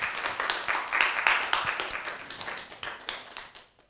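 Audience clapping for a team at a youth competition between Aeemci Port-Bouët and Aeemci Yopougon, a steady patter of hands that swells around the middle and fades out by the end.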